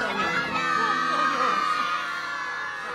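Children in the audience at an interactive children's concert shout and cheer together, a loud, dense crowd of young voices sustained steadily from start to finish.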